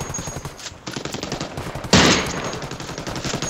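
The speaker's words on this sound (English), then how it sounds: "I'm being shot at" Rapid machine-gun fire and gunshots rain down on the player in the video game Shadow of War, with continuous bursts and a louder close volley near the middle.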